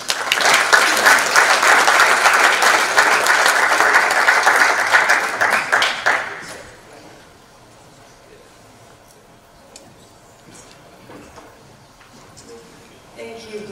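An audience at the South Wireless Summit 2018 conference applauds as a speaker is welcomed to the stage, loud sustained clapping for about six seconds that then fades into quiet room tone with faint shuffling.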